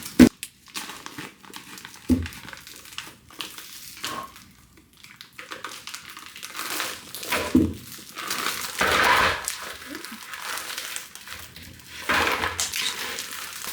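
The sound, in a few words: cutting open a vacuum-sealed plastic bag with scissors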